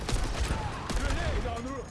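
Rapid automatic gunfire in the Overwatch video game, a steady dense volley of shots with electronic tones and effects layered over it during a payload push, loud and continuous.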